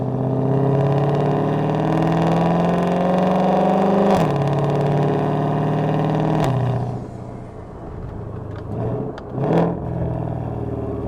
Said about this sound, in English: We're trying to hear the exhaust after all.